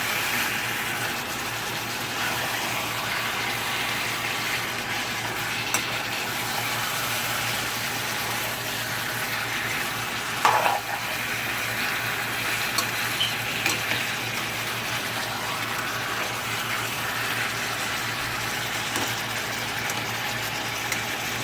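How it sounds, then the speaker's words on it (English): Lamb meat frying in a pan with potato, a constant loud sizzle filling the scene while a spoon stirs now and then, a few brief scrapes and clinks rising midway, no voices. "You see it's cooking right now. So you see, I'm gonna mix it."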